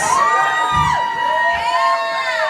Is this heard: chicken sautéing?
no